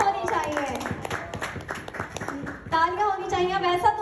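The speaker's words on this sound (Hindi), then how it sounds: "तालियां होनी चाहिए" Applause for Nasir at a wedding-related gathering: a steady patter of hand claps carrying on throughout, mixed with talk and voices over the top and growing a little fuller toward the end.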